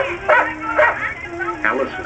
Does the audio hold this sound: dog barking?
yes